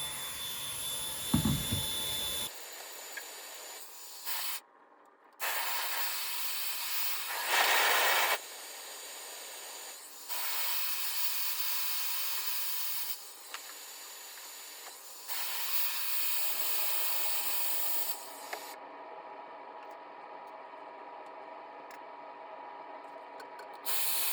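A Dyson Airwrap i.d. hair styler runs its motor on a low heat, low speed setting, giving a steady airy whir and hiss that carries throughout with brief pauses and shifts in pitch.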